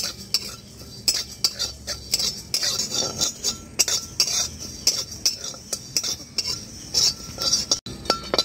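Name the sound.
dry roasting cumin and fennel seeds, stirring in pan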